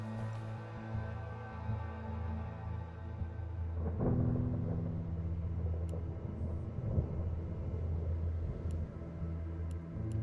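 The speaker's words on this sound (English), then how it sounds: "Loud thunder was sounding all around, preceded by sudden sharp flashes of light." Deep rolling thunder rumbles through a storm in the video game Don't Escape: 4 Days to Survive, a loud sustained roar that swells midway and holds over a steady low drone, with no talking.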